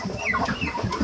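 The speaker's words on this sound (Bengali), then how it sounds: "এই তো কয়েকটি চীনা হাঁস আমার" Chinese ducks on a small duck farm, with a hen sitting on eggs, give off a continuous run of clucking, chattering fowl calls that stay close and fairly loud throughout, with no talking.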